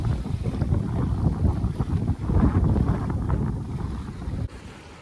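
Steady wind rushes over the microphone while a sailboat runs about two miles offshore near St. Augustine Inlet, with broadband gusts and water noise throughout, easing slightly near the end.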